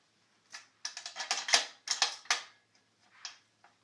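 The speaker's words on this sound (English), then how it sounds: "we need to mount it to the stringing machine" A tennis racquet is clamped onto a stringing machine, producing a short burst of close, sharp mechanical clicks and ratcheting taps, quiet and alone, with a couple of final ticks after a pause.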